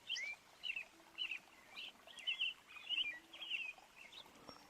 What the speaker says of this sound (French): On n'entend vraiment que les oiseaux.